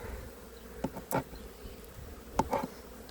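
Honey bees buzz faintly around a hive during spring apiary work, with a few brief louder passes near the listener over a soft steady hum.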